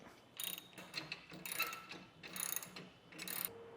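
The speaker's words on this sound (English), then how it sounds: "we're going to go beneath and start tightening these bolts down with a 1/2-inch socket" A ratchet fitted with a 1/2-inch socket tightens bolts beneath a ladder rack on a tonneau cover. It gives four or five short, quiet bursts of rapid clicking with brief pauses between them.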